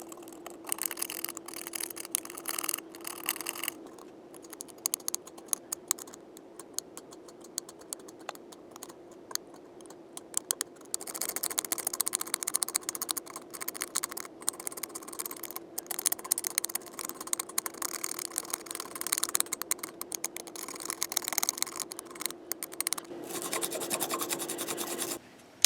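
Corrosion is scrubbed off a game circuit board in quick, close, faint rasping strokes, coming in uneven bursts and pauses with no voices.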